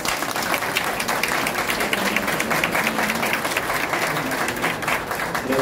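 Sustained, loud audience applause at a tourism event in a hall: a dense, even wash of many hands clapping together at a steady level throughout, with no speech over it.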